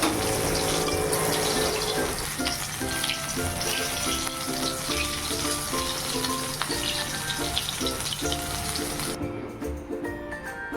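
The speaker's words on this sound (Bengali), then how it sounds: "চাল বাটার মধ্যে লবণ হলুদ দিয়ে শাপলাটা ভালো করে চিপড়িয়ে জল ফেলে দিয়ে তারপরে যে বড়া করে নিলাম।" Water lily fritters in rice batter with salt and turmeric frying in a pan, a steady bright sizzle throughout, with a running tap or water flow and faint rhythmic clatter layered underneath, no talking.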